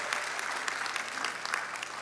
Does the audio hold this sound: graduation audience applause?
yes